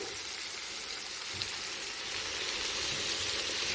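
Potato pieces sizzle in a pan of cooked spice paste as they are stirred in for an aloo moongre dish, a soft, steady frying hiss that grows slightly louder, with faint scraping now and then.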